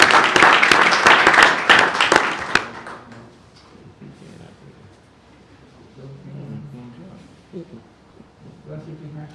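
At a school board meeting, an audience claps in a short burst of scattered applause that fades out after a few seconds, followed by quiet room noise and a few soft voices.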